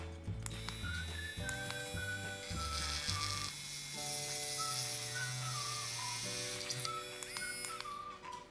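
A Kiprun mini electric drill boring through a plastic layer, a steady whining motor tone that shifts pitch in steps as the bit bites and loads, close and continuous.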